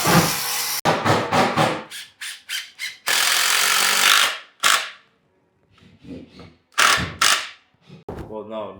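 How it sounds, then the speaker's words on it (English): A grinder cuts metal in a car workshop, harsh hissing bursts of noise in uneven spurts separated by short pauses and a near-silent gap. "Get out a grinder and Just start cutting."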